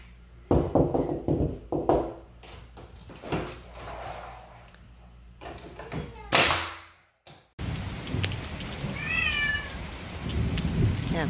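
A pre-dawn summer thunderstorm brings heavy rain and loud, rolling thunder cracks that swell and fade, with the downpour continuing throughout and cats meowing close by near the end.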